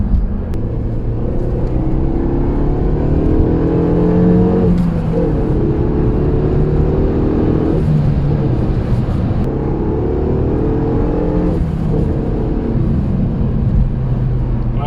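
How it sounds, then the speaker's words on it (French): A Renault Megane 3 RS Trophy 265 in sport mode accelerates hard: a loud, close engine roar climbs in pitch repeatedly, with brief drops at each gear change. "là je vais faire une grosse accélération"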